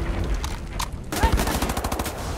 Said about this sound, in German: Schieß sie ins Knie.